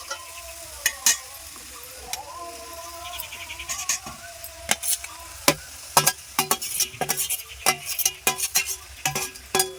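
Spiced vegetables and boiled greens are sautéed for a vegetarian mixed-greens curry, giving a low sizzle under repeated sharp clatters of a spoon stirring against the pan in an irregular rhythm.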